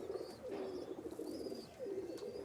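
Ferozpuri pigeons in a loft give a soft, continuous low cooing, with rolling coos swelling and fading at a fairly quiet level and no voices.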